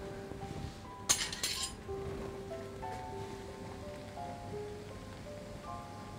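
A spoon clinks sharply against a cooking pot of homemade tomato ketchup sauce being checked for thickness, a quick cluster of metallic taps amid quiet kitchen background.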